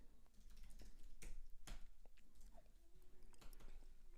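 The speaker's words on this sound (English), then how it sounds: "you have to do this weird typing" Faint typing on a computer keyboard while an engineer works on code, scattered soft key clicks and a few sharper taps in an irregular rhythm, quiet and close.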